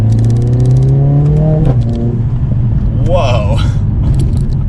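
A 2021 Mercedes-AMG CLA 45 coupe with an all-wheel-drive turbocharged 4-cylinder engine accelerates hard. The engine drone climbs steadily and is cut by a quick gear change, heard loud from inside the cabin, with a brief exclamation from a person.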